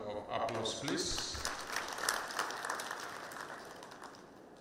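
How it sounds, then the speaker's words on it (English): A conference audience at the 2023 Kenya Water and Sanitation International Conference and Exhibition applauds. The clapping is quiet and distant, swelling briefly and then thinning out. "Another round of applause, please."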